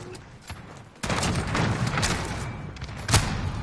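A burst of gunfire sounds in a chaotic Sniper Wars video game match, loud and close, with several shots stacked over a dense background of game sound and a voice.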